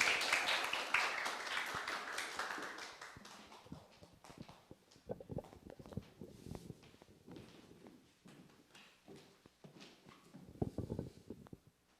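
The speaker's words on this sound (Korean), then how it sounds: "박수로 맞이해 주세요." Church congregation applauding to welcome a special song during a Sunday worship service, a burst of clapping that is loudest at first and then thins into scattered, fading claps.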